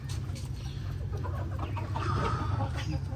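Hens cluck steadily in a backyard poultry enclosure, a busy, close chorus of short repeated clucks that runs throughout the clip without any talking.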